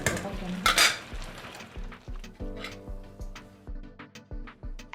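Eggplants cooking in a pan during traditional winter preparation, with repeated utensil scrapes and taps against the pan over a soft sizzle, close and steady.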